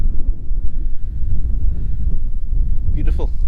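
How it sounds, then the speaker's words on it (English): Strong wind buffets a hilltop in the Simonside Hills of Northumberland, a loud, continuous low rumble of gusts across the microphone, with a brief higher-pitched sound near the end. "A little bit windy"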